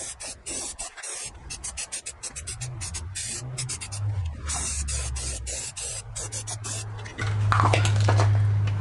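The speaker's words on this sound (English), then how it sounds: "Spray it with a little bit of primer on the bare metal" Spray can of primer misting onto bare metal of a 1959 Studebaker pickup: short hissing bursts after a rattle, then a longer steady spray, close and loud, with no talking.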